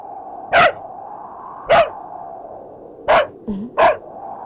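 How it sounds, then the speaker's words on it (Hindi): A dog barks in short sharp single barks, four or five of them spaced about a second apart, fairly loud against a quiet night background with no talking. "क्या हो गया इस कुत्ते को? इसने भौंक भौंक के नींद हराम कर दी।"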